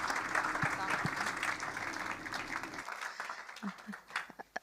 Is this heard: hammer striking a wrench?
no